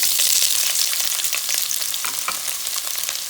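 Onions hit hot oil in a pan and break into a bright, crackling sizzle that starts loud and eases slightly, with faint stirring scrapes, close and alone.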